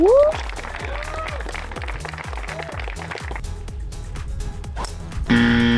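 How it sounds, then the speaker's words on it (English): An audience at a golf long drive contest claps and cheers in a sustained burst of applause, with whoops and rhythmic hand claps close by before a brief tone sounds at the end. "une bonne main d'applaudissements pour Zaire Odo"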